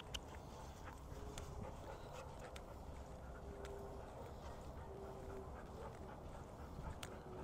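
A dog on a leash during a multi-dog walking drill pants and whimpers at moderate level over steady outdoor background noise, with no clear talk.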